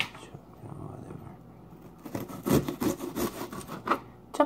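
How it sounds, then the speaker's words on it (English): A knife saws back and forth through an onion during cooking, rough rasping strokes that grow louder and more rhythmic in the second half, close to the microphone. "More like sawing the onion."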